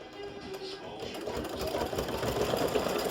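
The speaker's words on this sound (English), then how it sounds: "this is just stitching like little highlight stitching around the circles, or the dots, or the holes" An embroidery sewing machine stitches highlight stitching around the circles of St Patrick's Day horseshoe earrings in freestanding lace, a fast steady mechanical chatter heard close and continuous.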